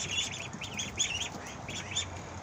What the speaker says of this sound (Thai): อนุบาลเป็ดนะครับ อนุบาลเป็ด อนุบาลเป็ดนะครับ